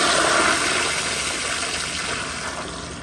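A 2005 Gerber Ultraflush toilet flushes with a loud, steady rush of water that fades slightly over three seconds, close up and with no talking.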